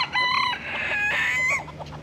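Chickens on a Maldives island cluck and squawk in a few close, sharp bursts, with a short pause between calls against quiet outdoor background.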